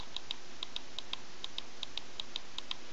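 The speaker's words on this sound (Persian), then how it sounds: "و این ماجرای کلیک، این مال ماوس، نگاه کنید میشنوید" A computer mouse clicks in a steady, even rhythm, about twelve crisp, faint ticks over a constant background hiss, with no voices.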